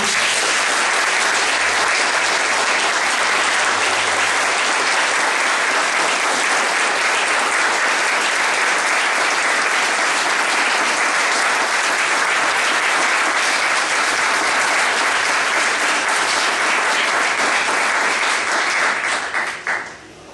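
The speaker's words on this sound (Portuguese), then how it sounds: "Queria pedir uma salva de palmas, por favor." Sustained, loud applause from an audience at a university student center's 55th anniversary ceremony, a dense even wash of clapping lasting around twenty seconds before abruptly trailing off.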